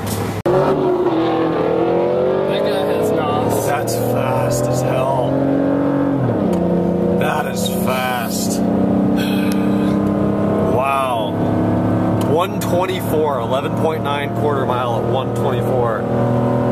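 A car accelerates hard on a quarter-mile drag run, its engine note rising through the gears. People talk steadily over the engine throughout.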